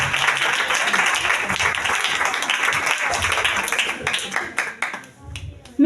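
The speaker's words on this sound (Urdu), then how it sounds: "خدا ان کے جلال کے لیے زوردار تالیاں بجائیں گے" A church congregation claps loudly in praise, dense applause for several seconds that breaks into scattered separate claps and then stops.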